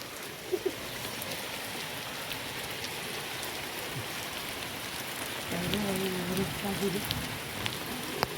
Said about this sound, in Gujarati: સરસ મજાનો વરસાદ ચાલુ થઈ ગયો છે અને ઝીણા ઝીણા કરાઈ પડે છે